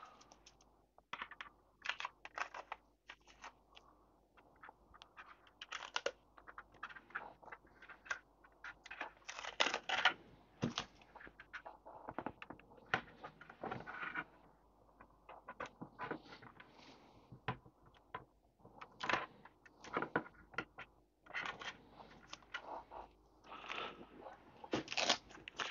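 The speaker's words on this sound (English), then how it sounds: "So at this point you can now" Tape is peeled and picked off a 1:700 Revell Titanic plastic scale model, giving soft crackling rips and small taps in irregular bursts, close and quiet.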